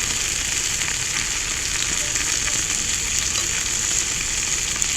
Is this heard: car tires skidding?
no